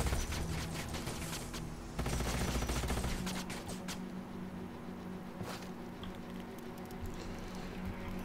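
Rapid bursts of gunfire crackle in a sci-fi strategy battle in Age of Wonders: Planetfall, dense volleys early, then scattered shots and impacts tapering off over a soft game backdrop.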